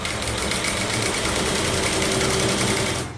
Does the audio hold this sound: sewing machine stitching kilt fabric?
yes